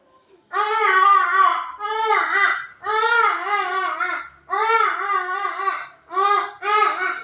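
At a school talent competition, a voice imitates a crying baby with loud, wailing cries in four or five drawn-out bursts separated by brief pauses.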